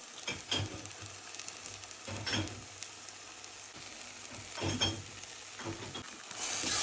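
A sweet potato shira being stirred in a pan with sugar added, giving a steady soft sizzle under repeated scraping strokes of a spoon, with a few louder stirring bursts and no talk.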